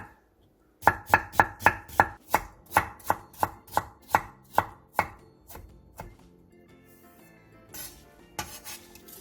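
A knife cuts thin matchsticks from a potato slice on a cutting board in a home kitchen. About twenty crisp, evenly paced chops ring out close by, then slow to a few scattered taps and light scraping, with no talk.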